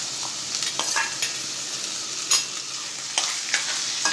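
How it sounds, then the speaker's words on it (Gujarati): Cluster beans and small potato pieces fry in about two spoons of oil in a kadai, with a steady close sizzle and a few sharp stirring scrapes and clinks over about four seconds, no talking. "મેં કઢાઈમાં 2 ચમચી જેટલું તેલ લીધું છે।"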